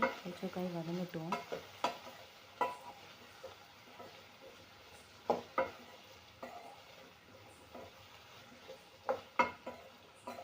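Chopped chayote sautéing in oil in a pan, a soft low sizzle broken by repeated scraping stirs, with a brief voice near the start.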